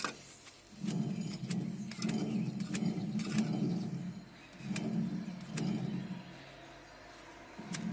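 Hand-turned winch reduction gearbox, 1:25 ratio with two output shafts, giving a steady grinding whir in repeated turns with short pauses between, each stroke marked by light clicks of the gears.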